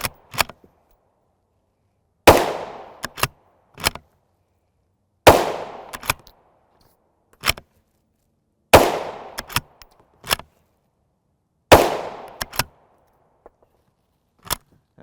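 A rifle fires 5.56x45mm M193 55gr FMJ rounds: four sharp, loud single shots spaced about three seconds apart, each followed by quick metallic clicks of the bolt being worked, with silence between.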